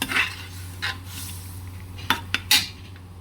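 Chicken cubes being stirred into soup in a pot: a spoon scrapes and clinks against the metal pot in a few close, sharp knocks over a low simmering background, with no talk.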